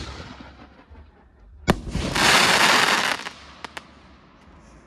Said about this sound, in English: we're going to do the green comet tail to crackling and chrysanthemum.